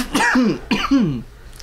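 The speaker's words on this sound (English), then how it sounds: "I had a cough." Two short, harsh coughs close to the mic, each a burst with a rough tail, followed by quiet.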